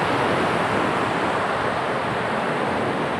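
Sea waves washing onto Mumbai beach, a continuous broad roar of surf mixed with wind buffeting, loud and close with no voices.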